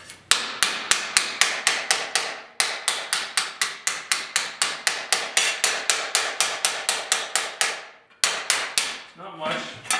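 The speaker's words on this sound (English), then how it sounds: "I don't want to go hammering on it so hard that I'm going to put a dent in it." Rapid, evenly spaced hammer strikes ring out on the metal body panel of a 1972 Ford 4x4 short box truck bed, dozens in a row, close and sharp, with a brief pause before a last few blows.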